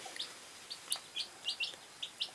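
Tiny kienyeji chicks, freshly hatched under a brooding hen, give a series of thin, high peeps at a moderate distance, spaced irregularly with no talking.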